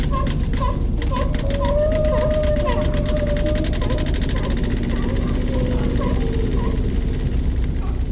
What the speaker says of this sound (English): So if you're recording the ocean like Michelle does, it would sound something like this